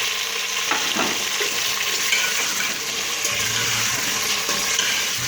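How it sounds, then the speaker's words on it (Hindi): Chicken pieces sizzle and fry steadily in a pan of oil with browned ginger and garlic. The sound is a close, continuous crackle with a few stirring clinks and no talking. "चिकन को हम तब तक फ्राई करेंगे कि इसका कलर जो है वो चेंज हो जाए।"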